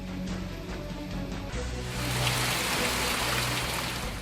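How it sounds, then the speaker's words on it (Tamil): Summer rain falling at night over villages in Salem district, a steady broadband hiss of rainfall that swells slightly louder partway through, with no voices. "இரவில் பரவலாக மழை பெய்தது"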